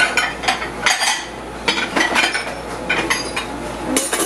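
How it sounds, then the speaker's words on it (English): Utensil stirs and clinks in a bowl as sugar is mixed into warm cooked black rice, a close series of rhythmic scraping and clattering strokes. "So I put sugar when it's warm, when the rice is warm, and mix it up."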